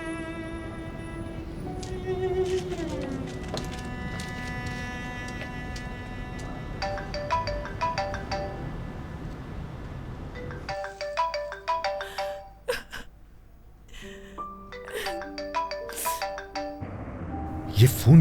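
A phone ringtone plays a repeating electronic melody, loud and close, its tune changing partway through.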